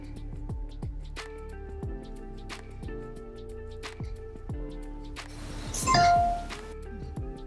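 An iPhone 14 Pro Max plays its power-off chime, a short bright tone near the end of the clip, heard over soft, steady background piano music.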